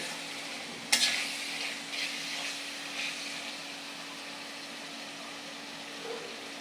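Turnip and other vegetables tipped into cooked spice paste in a pan for a rohu fish and ash gourd curry, with a sharp hiss as they land, then steady frying sizzle and intermittent stirring scrapes.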